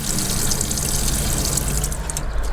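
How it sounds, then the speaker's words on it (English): Fresh water runs steadily from the water pump in a Peugeot Boxer L3 camper van, producing a continuous, fairly loud rushing flow with no voices over it. "we've got the pump in, it can go outside, it's only fresh water, so that's running nicely"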